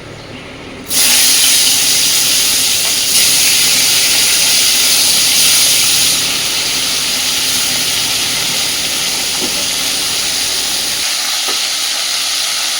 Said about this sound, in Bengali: এইবার লবণ হলুদ মাখানো মাছগুলোকে আগে ভেজে নেবে।